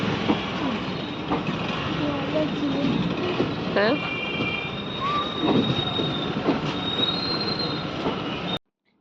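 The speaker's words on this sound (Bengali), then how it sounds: "আমার একটা ট্রেন আসছে।" A passing train rumbles loudly along railway tracks with squealing, ringing wheel tones and clattering, filling the scene near and continuous until it cuts off abruptly; a voice speaks briefly under the noise.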